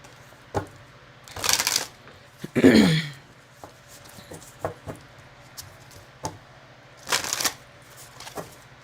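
Tarot cards are shuffled in a few quick riffling bursts, separated by quieter taps and soft handling of the deck, with a brief throat clearing in between.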